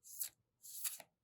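Oracle cards are overhand shuffled in two quick riffling bursts, close and crisp, with a short pause between them and no talk.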